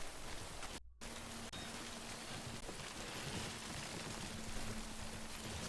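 Steady rain pours down in the video game Death Stranding, a dense, even hiss that lasts the whole stretch with no talk over it.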